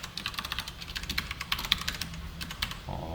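Computer keyboard typing while HTML code is entered, a steady run of quick, light key clicks at moderate distance, with no voices over it.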